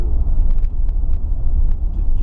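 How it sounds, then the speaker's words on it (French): Low, steady engine rumble from a 1970 Buick Riviera while driving, a dense even drone heard from inside the car with faint light clicks on top. "Moteur qui est très régulier et voilà, fonctionne très bien."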